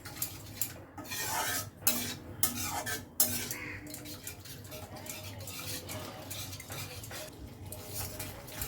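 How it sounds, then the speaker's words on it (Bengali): A spinach curry masala with yogurt being mixed in a pan, with uneven scraping and clinking of a utensil against the pan, louder strokes early and softer steady stirring after. "দিয়ে আবারও সব কিছু ভালো করে মিশিয়ে নেব।"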